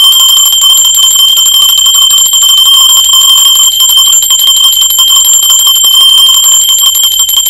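A bell rings steadily and loudly for the whole stretch, its bright, sustained metallic tones layered and ringing without pause, with no talking over it.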